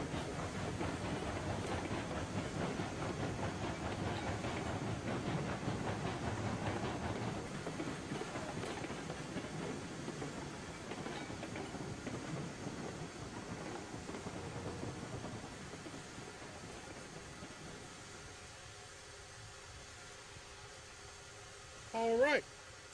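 A steam-era train in Railroads Online rolls downhill engine-first, its low rumble and clatter gradually fading quieter, ending with a brief sharp sound near the end.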